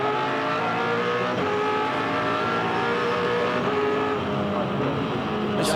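V8 Supercars at Eastern Creek in a March 2008 round, engines droning at high revs with shifting pitch as cars run nearby, a continuous loud roar and a brief sharp tire squeal near the end.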